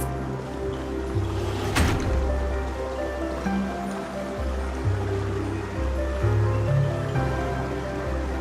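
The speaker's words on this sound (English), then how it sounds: "I think I hear the sound of water. You once mentioned there's a magnificent fountain up ahead." Water from a grand fountain in the game Honkai Star Rail flows in a continuous rushing stream under a calm, sustained musical backdrop, with one brief splashy burst near the start.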